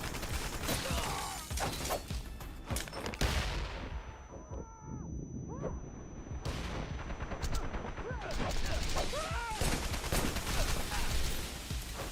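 Grenade blast in a 1990s-era first-person shooter, a loud boom with a debris crash that lands amid dense gunfire and battle noise and then fades as the firing resumes.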